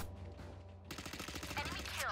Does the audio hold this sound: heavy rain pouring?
no